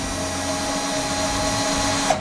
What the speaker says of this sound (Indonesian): Lalu kita kembali bor lagi untuk tanda yang sudah kita tandain sebelumnya.